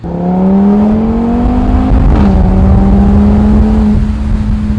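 An Audi TT RS Roadster engine and exhaust pulling hard through the gears, a loud steady drone that climbs in pitch, dips sharply at a gear change, then rises again, close and without talk.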